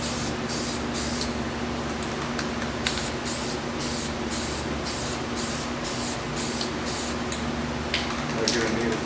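A coat of oil sprayed onto a surface in short repeated hissing bursts at close range, over a steady background hum with a low voice speaking faintly.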